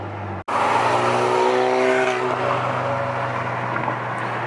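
After a brief cut, a loud catless, straight-piped Alfa Romeo Giulia engine roars and revs, pitch climbing and then settling into a steady raspy drone, with no voices.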